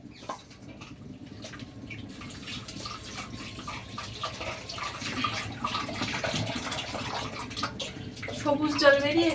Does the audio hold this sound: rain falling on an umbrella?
no